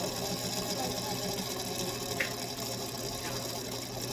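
A sewing machine stitching an off-the-shoulder lavender dress runs with a steady, continuous mechanical whir. It is close and even throughout, with no voices.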